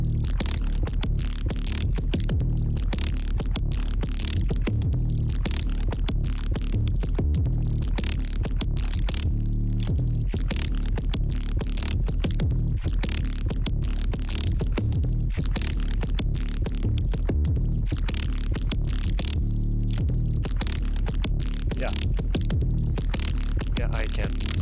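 Dense music run through an upward compression effect chain, a loud, continuous throbbing low-end wall with pulsing rhythmic hits and no let-up across the whole stretch.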